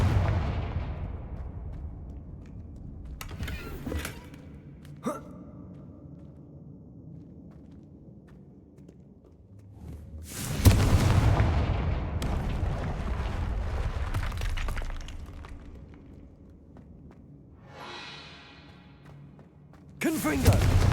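Confringo blast spells exploding in the Hogwarts Legacy video game: several heavy booming bursts spread out with quieter rumbling gaps, and the loudest blasts roll on for a few seconds each.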